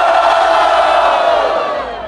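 A loud crowd at a rap battle roars and cheers in a sustained wall of voices and whoops, slowly easing off near the end.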